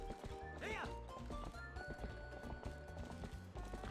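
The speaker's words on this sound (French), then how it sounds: "La petite chèvre récalcitrante." A stubborn goat in a Zelda Twilight Princess ranch scene gives a sharp wavering bleat amid steady clopping hooves and game music, while someone talks over it throughout.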